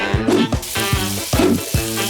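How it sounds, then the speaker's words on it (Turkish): Ham and cheese sandwich frying in a pan, a loud close sizzle with a series of regular soft thumps and scrapes from the pan or spatula, no talk over it. "Ve geriye kalan tek şey hepsini kızartmak."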